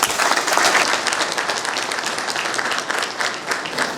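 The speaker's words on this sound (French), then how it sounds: "Lorsque je vous entends applaudir," A crowd applauds at the close of a speech during a political platform launch in Congo, with dense, continuous clapping from many hands that holds strong for four seconds and pulses slightly in intensity.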